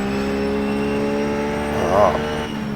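A race car engine from a racing video game, leaving the pits at Daytona at night: a steady droning hum with a brief swell around the two-second mark, under faint talk.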